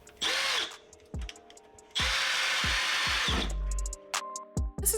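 Power drill driving screws to mount a kitchen cabinet into a wall stud, two long loud whirring bursts with short tool clicks and knocks in between, close up.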